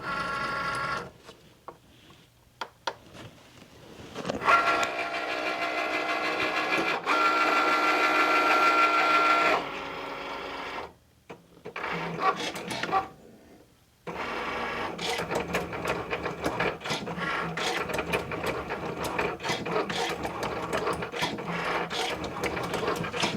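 A Cricut cutting machine works through craft foam with busy mechanical whirring and clicking, pausing briefly twice before resuming at a steady, close level.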